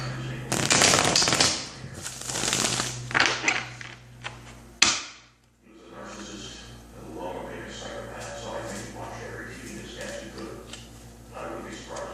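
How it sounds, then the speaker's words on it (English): A tarot deck is shuffled in quick riffling bursts and then cut, close and crisp, while a person talks over and between the card sounds. "and then I'll cut the deck."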